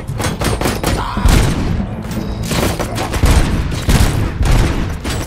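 Gunfire in the RoboCop: Rogue City video game: dense, loud bursts of shots and booming impacts crowding together in rapid, uneven volleys, close and continuous throughout.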